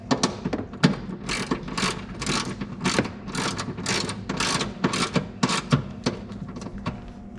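A hand ratchet tightens the battery hold-down clip on a 2022 Toyota Tacoma, giving a rapid series of close, crisp clicking bursts, about a dozen regular strokes back and forth with no talking.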